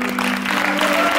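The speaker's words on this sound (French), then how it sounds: "il faut quand même applaudir très très fort Doron" A brief burst of dense crowd applause at a stage show, loud and continuous, with a steady tonal hum beneath it.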